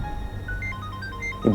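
A phone rings with an incoming call, a steady electronic ringtone of repeating tones over a low background hum, heard alone at moderate level.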